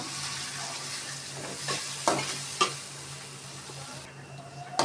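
Onions being stirred and fried in a pan, a steady sizzle with a few sharp scrapes of a spoon against the pan, close and without talk.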